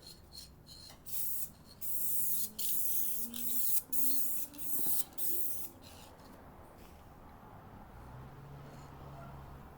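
A spray gun lays down a final coat of 2K clear coat in steady hissing bursts, loud and close, with brief pauses between passes and quieter hiss toward the end.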